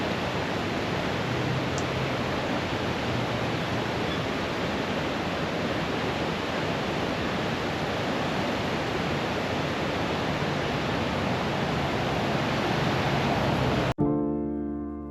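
Solomon Gulch Creek near the port of Valdez, Alaska, rushing steadily as a loud, continuous broadband roar of flowing water with no voices, cutting off abruptly near the end.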